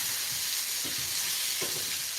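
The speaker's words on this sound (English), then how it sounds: "sauteing until the onions begin to sweat." Garlic and onions sauté in a pot over medium-low heat, giving a steady, close sizzle with faint stirring scrapes at intervals and no talking.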